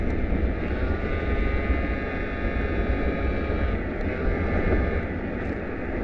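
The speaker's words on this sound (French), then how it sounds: "il y a un avion, un militaire, un Hercule qui arrête pas de tourner au ras" A low, continuous aircraft engine drone fills the whole stretch, steady and loud with a strong hum, as a military Hercules propeller plane circles low overhead.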